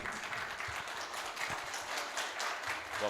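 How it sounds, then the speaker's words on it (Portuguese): Steady, dense applause from a conference audience welcoming the first morning speaker at a business talk, a continuous wash of many hands heard from a distance, fairly faint and unbroken for a few seconds. "Muitas palmas para o nosso primeiro palestrante desta manhã de quarta-feira"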